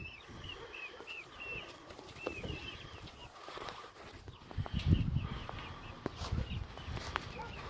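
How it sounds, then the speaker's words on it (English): Chickens moving around in a large coop give faint scattered chirps with soft rustling and scuffling in the background, fairly quiet throughout. "And then we got the chickens in the big house."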